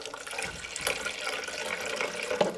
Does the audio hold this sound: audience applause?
no